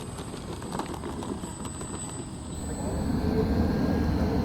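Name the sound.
radio-controlled model airplane slipping in to land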